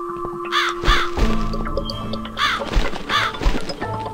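A crow caws repeatedly in the horror video game The Cat Lady, with several loud, harsh calls rising over a droning, eerie game ambience and no voices.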